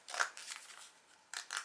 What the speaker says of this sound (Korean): 이만큼 다시 가위선만큼 오렸고요